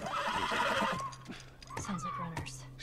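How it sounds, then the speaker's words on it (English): Horse whinnying in The Last of Us Remastered, a short neigh rising through the first second, then mixed with in-game speech and movement sounds. "Stay with the horse."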